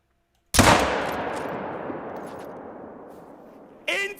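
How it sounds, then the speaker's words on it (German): Single loud hunting-rifle shot in the video game theHunter: Call of the Wild, a sharp crack followed by a long rolling echo that fades over about three seconds before a voice starts talking. "Genau da darf ich hinschießen."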